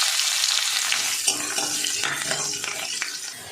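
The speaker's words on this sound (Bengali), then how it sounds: "রসুন কুচিটা একটু ভাজা ভাজা করবো।" Chopped garlic frying in hot oil just after a whole-spice tempering, a dense steady sizzle and crackle close by, with light clinks and scrapes of stirring and no talk.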